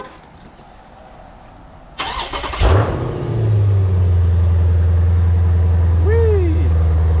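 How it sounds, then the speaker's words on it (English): A Dodge Challenger Demon cold-starts: quiet background, then a sharp crank and catch that flares into a loud rev before settling into a deep, steady idle close by. "And let's do a cold start."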